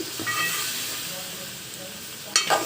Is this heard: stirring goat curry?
yes